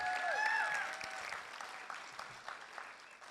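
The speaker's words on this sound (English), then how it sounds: "Have one more round of applause for Oscarine and everyone from Lived Experiences." Applause from an audience at a public safety and mental health event, steady moderate clapping that starts with whoops and fades gradually while continuing.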